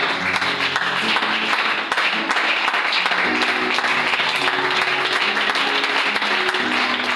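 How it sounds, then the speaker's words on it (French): A church congregation applauds and cheers for the king, the clapping dense, loud and steady throughout with no break, alone without speech. "Est-ce qu'on peut acclamer encore le roi?"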